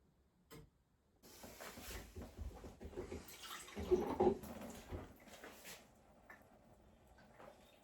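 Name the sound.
water running from a household tap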